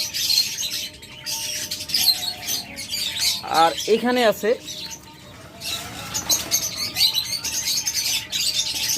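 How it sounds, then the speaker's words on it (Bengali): Caged king quail, 55-day-old birds, chirping and squawking close by in a quick rising-and-falling burst, with someone talking over them. "পঞ্চান্ন দিনের পাখি এগুলো ইনশাল্লাহ আগামী পাঁচ সাত দিনের মধ্যে ডিম পাড়া শুরু করে দিবে"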